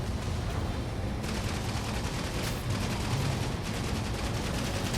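Dense, continuous gunfire crackles from enemies in a PS5 Spider-Man game, a loud fusillade of rapid overlapping shots with occasional heavier blasts, filling the scene without pause.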